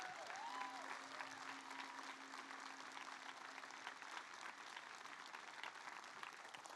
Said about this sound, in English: Can we extend that round of applause, please?